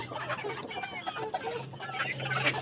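Chickens on a small backyard farm, yellow-legged gamefowl of Kelso and McLean breeds, cluck and call repeatedly at a moderate distance, with a steady low hum underneath and no talking.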